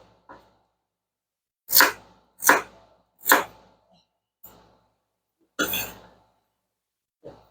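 Knife chopping carrots and other vegetables for matzo ball soup on a cutting board: about six crisp, close chops spaced irregularly, each landing alone in otherwise quiet surroundings.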